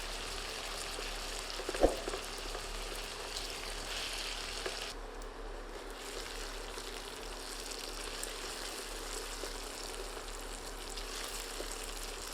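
Onions frying over medium heat in a pot for a Balti mutton curry, stirred with a ladle; a steady, even sizzle runs throughout, with one sharp knock of the ladle early on and no talk.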